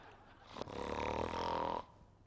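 A man snoring in a hospital on-call room, one loud, close, rough drawn-out snore lasting about a second before it cuts off, heard alone.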